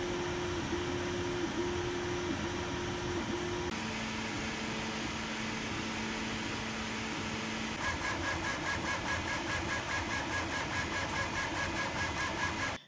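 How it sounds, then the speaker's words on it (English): A Prusa MK4S 3D printer at work with a large part cooling fan, giving a steady whirring fan hiss under stepping motor tones that shift pitch and rhythm in segments, close and continuous. "Due to the large part cooling fan and its surrounding duct, filming the nozzle in action was challenging."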